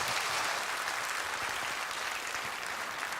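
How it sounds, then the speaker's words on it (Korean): A church congregation at Sunday worship giving warm applause, a continuous, even wash of many hands clapping together at a moderate, slightly distant level throughout. "선생님들 뜨거운 박수로 우리 축복해 주시기 바랍니다"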